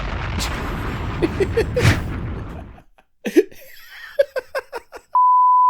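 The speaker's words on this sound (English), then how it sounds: "Throw an imaginary grenade at his uptight ass." A loud grenade explosion sound effect erupts in a rumbling blast for nearly three seconds, then gives way to a few sharp bursts, a series of short beeps and a steady tone.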